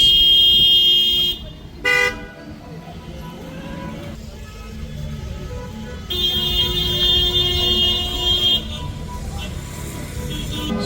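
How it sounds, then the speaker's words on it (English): Car horns honk in city-centre traffic in Cape Verde: steady and short toots overlap over the engine rumble of cars and buses, with a pause in the middle before the honking resumes, loud and close. "everybody's using their horns"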